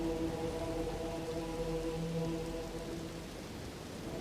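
Steady rain falls across the open world of Elden Ring as a soft, even hiss at moderate level, with a low sustained tonal hum running under it and no voices.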